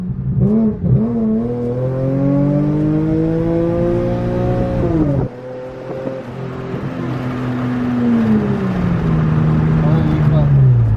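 An Infiniti Q50 engine revs hard through a downshift, a loud sustained drone that climbs in pitch, cuts off abruptly midway, then rises again and settles into a long steady pull.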